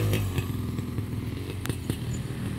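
A Honda CR500R dirt bike launches a holeshot on sand, its two-stroke engine roaring loudly at close range with rough, crackling bursts as the rear tire digs in.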